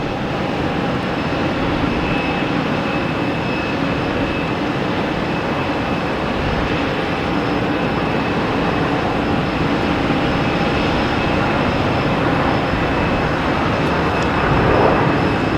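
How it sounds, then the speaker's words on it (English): A Delta Airbus A321neo arriving from Denver at Boston Logan Airport, heard as a steady, loud broadband jet roar with a faint tonal whine that holds evenly for the whole stretch and swells slightly near the end. "There's a Delta coming from Denver, an A321neo."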